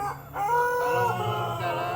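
A pelung chicken, a long-crowing breed, gives one drawn-out, sustained crow close by, with a steady, resonant tone and no talking over it.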